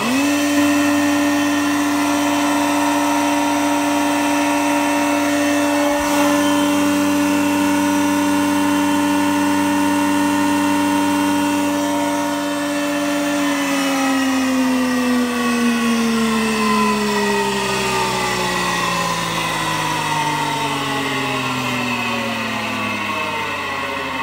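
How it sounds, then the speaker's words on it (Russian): A D300 jointer-planer with separate feed runs its rotating cutter with a steady, loud, whining motor hum. Partway through, the pitch slides downward as the machine slows, and no one speaks. "Фуганок у нас вращается в обе стороны, то есть и туда, и сюда."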